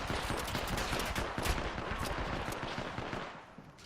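Rapid bursts of pistol gunfire from a basic handgun in a video game, with dense repeated shots firing close and loud across the whole stretch and easing slightly toward the end.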